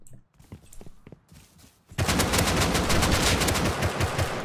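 Loud, sustained automatic fire from an AK rifle in the survival game Rust, a dense rapid rattle of shots that erupts abruptly after a couple of seconds of quieter sounds and keeps going to the end.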